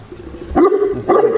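Two sharp Neapolitan Mastiff barks half a second apart, close and loud, over faint background noise.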